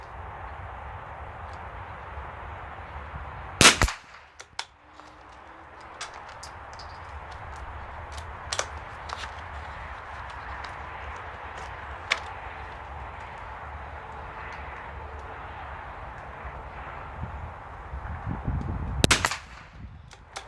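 Two sharp rimfire shots from Aguila Standard Velocity ammunition crack out at an outdoor range, one early and one near the end, with a quiet stretch of faint ambient noise between them.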